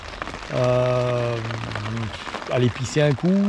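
Rain patters steadily on a tent at a coastal campsite, a soft, constant drumming beneath a voice as he speaks close by.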